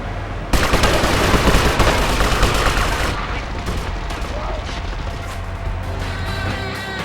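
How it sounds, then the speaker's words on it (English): Soldiers fire assault rifles in GTA Vice City, with loud rapid bursts of automatic gunfire that start abruptly, then continue as scattered, slightly more distant shots under a busy game background. "All I know is that they shoot at me with ARs when I pass here."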